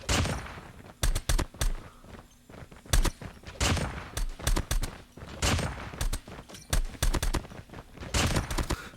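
Man-O-War assault rifle in the shooter game COD Mobile, buffed, fires loud, rapid bursts of shots again and again, separated by short, quieter pauses.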